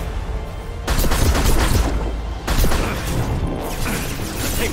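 Gunfire rattles through a Mass Effect 2 firefight in loud, sustained bursts that cut in abruptly, pause briefly, then resume with booming impacts and mechanical clatter.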